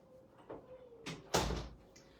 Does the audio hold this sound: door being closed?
yes